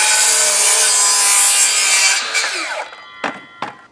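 A handsaw cuts through a wooden fence board guided by a square, a steady dense rasping stroke for about two seconds that slows and tapers off, followed by two short sharp knocks near the end.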